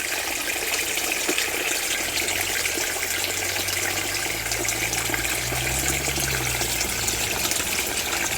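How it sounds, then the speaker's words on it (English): Water flows steadily from a spring well into a stream in an autumn cottage garden. It makes a continuous, fairly loud rushing gush throughout, with no voices over it. "So there's lots of water flowing from the spring well."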